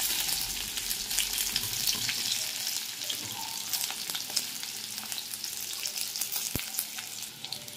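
Chopped green chillies and garlic fry in hot oil with bay leaf and panch phoron for a soya chunks curry, a steady bright sizzle running throughout with occasional stirring scrapes, close and fairly loud, no talking.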